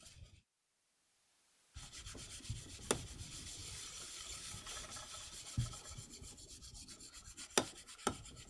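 Knife sharpened on an oiled whetstone, soft repeated scraping strokes after a short pause, faint and close, with a few sharper taps between the rubbing passes.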